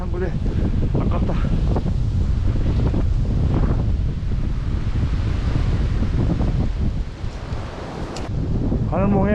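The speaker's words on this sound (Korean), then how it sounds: "바람이 부니까 막 떨어져." Strong gusting wind buffets the microphone on a snowy Gyeryongsan mountain ridge, roaring loud and continuous throughout, with brief voice fragments breaking through.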